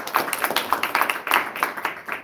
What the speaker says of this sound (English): let's give one more a big round of applause.